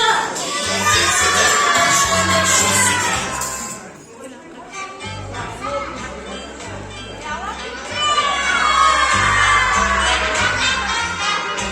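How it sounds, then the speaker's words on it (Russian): A group of children at a Bishkek banquet-hall celebration shout hooray together for a group photo, loud joyful crowd cheering in two bursts with a short lull between, over background music. "Смотрим в камеру и кричим «Ура!»"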